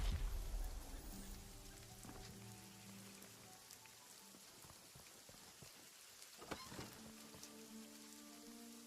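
Rain falls in the survival game Runescape: Dragonwilds, a soft continuous patter of drops on surfaces with scattered louder taps, quiet and even throughout alongside faint tonal game ambience.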